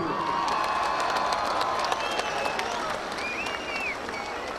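Dense clapping from a large political rally crowd in Abbottabad, steady and loud throughout, with scattered shouts and whistles rising above the applause.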